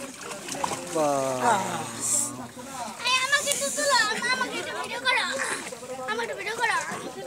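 Children swimming and splashing in outdoor water, lively splashes and shrieks mixed with excited children's voices and an adult talking, fairly close and busy throughout.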